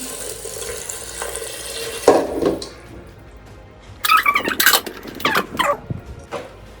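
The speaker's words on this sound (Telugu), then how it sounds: "కొన్ని వాటర్ యాడ్ చేస్తున్నాను." Water pours in short bursts into a pot, splashing and gurgling near the listener, with a brief pause between pours.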